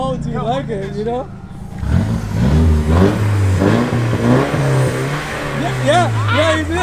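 Nissan Silvia S15 engine and exhaust revving nearby, with several rising throttle blips and a sustained rumble after a brief quieter start, with voices talking over the engine.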